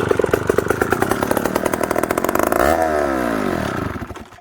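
An old McCulloch 1-60 chainsaw engine firing up and running in rapid loud pulsing strokes, then sputtering and winding down as it dies out near the end.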